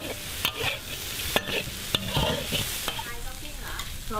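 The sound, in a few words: stir-frying quail dry in a pan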